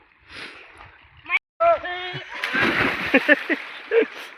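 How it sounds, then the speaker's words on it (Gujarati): Water splashes and sloshes nearby in a swimming pool while people play tag, talking and shouting over it, the splashing rising into a steady churn. "સ્વિમિંગ પુલમાં નાવા આવી ગયા છે."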